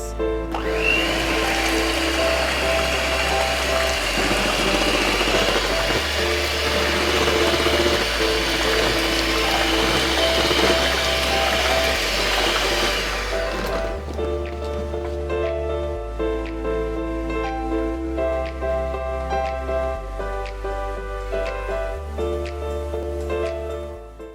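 Cake batter for an orange cake being mixed after flour is added, a loud continuous whirring churn for about fourteen seconds, then a lighter, fainter mixing noise under steady background music.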